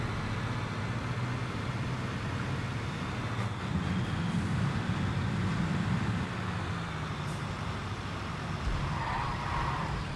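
A vehicle in the game Construction Simulator oversteers, its engine droning steadily with a brief rising skid-like whine midway, continuous and fairly loud without talk.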